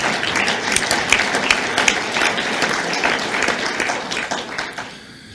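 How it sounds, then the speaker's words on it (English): A Rotary club audience bursts into applause at a meeting, a dense, lively patter of many hands that holds steady and then fades out near the end. "You can applaud yourselves for that one."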